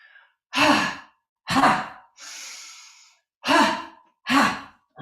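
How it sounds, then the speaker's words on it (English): Breath of joy yoga breathing exercise: four strong, forceful exhalations in a steady rhythm, with a softer, longer breath between the second and third, close and alone. "we're going to do a breath of joy again"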